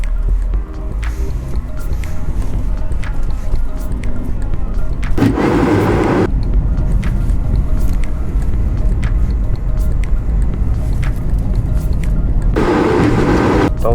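Hyundai Grand i10 with a 1.2-litre petrol engine, heard from inside while driving: a steady low engine drone with road rumble, plus two louder, broader surges of noise partway through.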